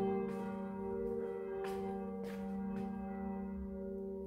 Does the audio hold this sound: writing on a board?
no